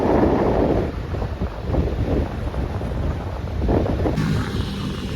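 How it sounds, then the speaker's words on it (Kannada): Strong wind roars through an open car sunroof, buffeting the microphone in rushing gusts, with the low rumble of the moving car underneath on a forest road. "ಮಸ್ತ್ ಗಾಳಿ ಬರತೈತಿ"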